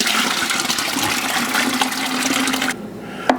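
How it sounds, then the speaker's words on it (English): Brine for pastrami poured into a bucket, a loud steady gushing splash that runs for almost three seconds, then stops abruptly, leaving a quieter trickle and a final small clunk. "So I'm just gonna pour the brine into my bucket."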